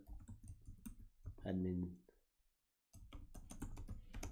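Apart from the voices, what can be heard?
typing on a computer keyboard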